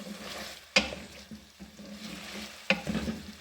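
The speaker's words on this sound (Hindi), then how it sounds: "इसको अच्छी तरह भून लेंगे कि हमारे टमाटर मैश हो जाए" Tomato and potato gravy sautéing in a pan, a soft steady sizzle with two sharp spoon scrapes against the pan standing out, close and alone with no voices.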